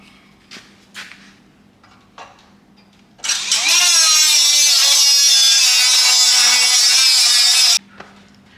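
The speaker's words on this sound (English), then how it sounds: "Let me get the grinder out. All right, let me cut this out." An angle grinder spins up and cuts into a truck's rear cab support with a loud, sustained high-pitched whine for about four seconds, after a few light clanks and taps, then winds down abruptly.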